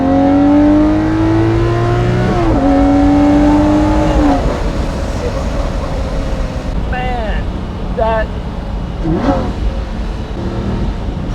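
A Lamborghini Murcielago LP640 Roadster with the top down revs loudly, its engine climbing in pitch and then dropping through gear changes. Later it settles into a rougher, burbling drone with quick blips, heard up close from the cabin.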